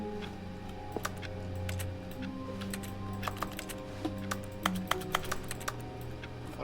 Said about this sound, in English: I just wanted to type funny things on the keyboard